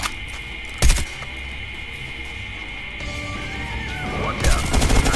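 Two sharp bursts of gunfire in Call of Duty Mobile, one early and one near the end, over a steady electronic hum and low rumbling background.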